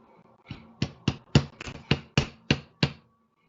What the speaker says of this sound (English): I got my little steel block here, with my little ball peen hammer